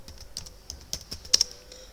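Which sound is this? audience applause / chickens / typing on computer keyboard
typing on computer keyboard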